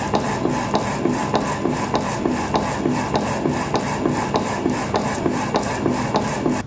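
A pin-on-disk tribometer runs in reciprocating mode, giving a steady rubbing rasp with regular back-and-forth strokes, several per second, close and continuous with no voices.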